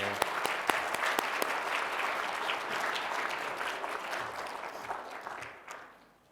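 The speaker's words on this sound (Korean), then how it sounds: "우리 로아 앞으로 나올 때 우리 한번 환영의 박수 할까요?" A church congregation gives a burst of welcoming applause during a Sunday worship service, dense sustained clapping from many hands filling the room before it fades out quickly at the end.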